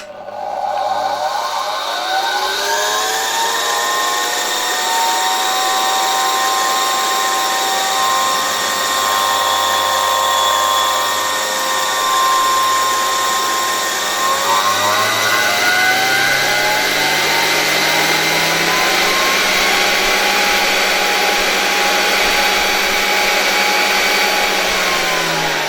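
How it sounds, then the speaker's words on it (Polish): A 1978 Zelmer type 95 vacuum cleaner motor is running on a test bench with its brushes sparking. It gives a steady, loud whine that rises in pitch as it spins up and climbs again partway through, with no talk. "ten silnik naprawdę bardzo porządnie tutaj zasysa powietrze"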